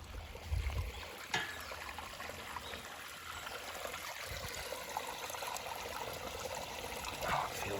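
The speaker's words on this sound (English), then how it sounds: "I like the flowing water here." Water flowing through a park in Okinawa: a steady, soft trickling and babbling stream heard close by and continuous, with a few faint thumps and rustles around it.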